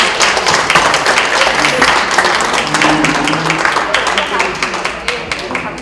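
Warm, steady applause from the audience at a book launch talk concert, many hands clapping close and dense, thinning slightly toward the end with individual claps emerging.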